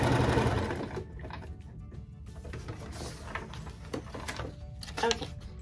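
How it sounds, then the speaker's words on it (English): A sewing machine runs steadily, stitching quilt pieces together for a foundation paper-pieced pyramid stack block, giving a continuous whirring, rattling mechanical drone with small clicks throughout. "So now I'm gonna sew right here in between sections 1 and 2."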